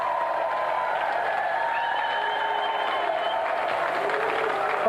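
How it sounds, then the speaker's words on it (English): Studio audience applause at a televised video game challenge show, a steady sustained round of clapping and crowd noise heard close and loud throughout, with no talk over it. "Round of applause for Jamie."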